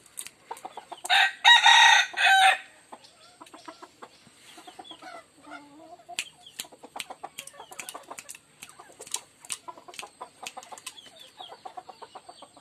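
A gamecock rooster crows loudly once near the start, then a run of clucks and short sharp calls from fighting cocks follows, close and clear with no talk over it.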